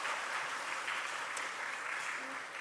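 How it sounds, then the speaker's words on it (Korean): Applause from a church congregation during a Sunday worship service, a steady, fairly quiet wash of clapping that holds evenly throughout, with faint murmuring mixed in. "우리 박수 한번 해주셨으면 좋겠습니다."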